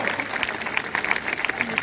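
A crowd claps steadily in a dense, continuous burst of applause for gladiators at a show in the Pula Arena amphitheatre.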